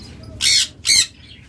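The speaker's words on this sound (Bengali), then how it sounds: "আপনাদের এখানে একটা অ্যালবিনো পেয়ার দেখাই, অ্যালবিনো লাভ বার্ড পেয়ার" An albino lovebird pair gives two loud, harsh squawks close by, each lasting about a quarter second with a short gap between, and no talking around them.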